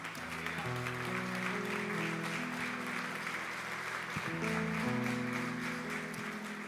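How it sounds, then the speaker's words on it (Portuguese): A church congregation applauds during a worship service, with a steady wash of clapping over sustained keyboard or organ chords that play throughout. "Dê um forte aplauso ao Senhor."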